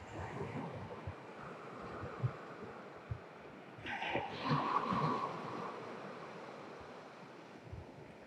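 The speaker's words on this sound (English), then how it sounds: "Two more breaths like that, maybe listening to the waves." Ocean waves wash softly and steadily, with low rumbling surf and a slightly louder swell near the middle, faint and distant with no voices.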